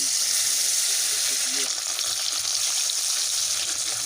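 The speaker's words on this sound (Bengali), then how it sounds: "ভালোভাবে তেলটা গরম হয়ে গেলে মাছগুলো ভেজে নিচ্ছি" Bata fish fry in hot refined oil in a kadai, producing a loud, continuous close-up sizzle and crackle that stays steady throughout with faint stirring.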